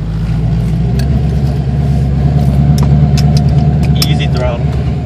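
A 1991 Ford Mustang Foxbody V8 with a newly installed 2.5-inch off-road H-pipe exhaust idles loudly and steadily up close, a deep rumbling drone with people talking over it.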